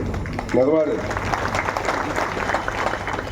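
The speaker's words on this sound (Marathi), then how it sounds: "ज्यांच्यासाठी एकदा जोरदार टाळ्या वाजवल्या पाहिजेत ते आमचे विशाल नरवाडे" An audience at a panchayat samiti inauguration in Sangli breaks into applause for Vishal Narwade, a steady crowd clapping that starts under a brief spoken phrase and continues at moderate volume.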